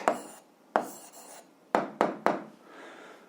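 Pen scratching on paper while an answer is written down for a 7th-grade algebra exercise: five short bursts of close, rasping strokes, each starting sharply and fading, with a pause between them.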